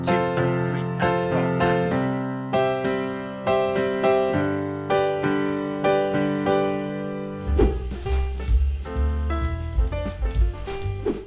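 A beginner chord progression is played with combined left- and right-hand rhythms, steady strummed chords pulsing evenly and clearly, shifting to a fuller, brighter strum near the end with no talking.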